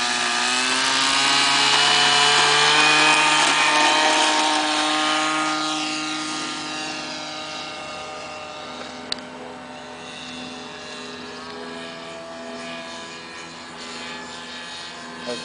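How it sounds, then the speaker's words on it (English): Sig Kadet LT-40 RC model airplane taking off at about half power, its small engine droning loudly with steady harmonic whine that then recedes and fades into the distance, with no voices. "He's about half power on takeoff."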